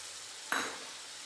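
Soaked spice paste hits a pan of cooked-down tomatoes for a snail curry with a sudden sharp sizzle that fades quickly over a faint steady background hiss, with no talk.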